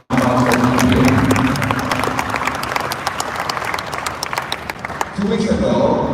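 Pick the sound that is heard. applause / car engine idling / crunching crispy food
applause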